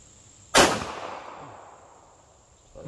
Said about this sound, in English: We're going to be shooting some of this zinc plated ammo right here